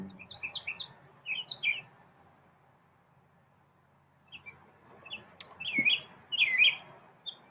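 Several bird chirps come in two bursts, a quick run of tweets at the start and a louder cluster near the end, with a quiet pause between them.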